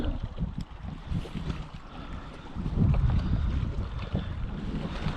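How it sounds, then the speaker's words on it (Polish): A small boat passes on the sea off the Norwegian shore, a low rumbling hum that swells slightly midway, mixed with wind buffeting the microphone and lapping waves, no talk. "łódeczka jakaś płynie mała"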